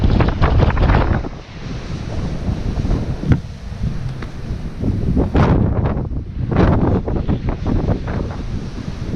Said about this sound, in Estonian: siin see tuul puhub kuidagi vastu panka ja siit panga pealt ülesse